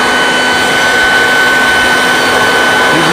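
A loud, steady air blower roars continuously at close range, drying the paint of a car with a nine-year ceramic coating after a maintenance wash.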